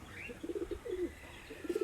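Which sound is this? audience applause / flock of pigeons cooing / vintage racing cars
flock of pigeons cooing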